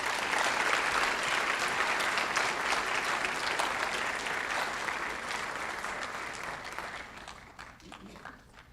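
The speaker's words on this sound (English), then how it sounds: "Please give these students one more round of applause." Audience applause for high school scholarship recipients at a county awards ceremony, a dense steady clapping from a full room that holds strong for most of the stretch, then thins and tapers off toward the end.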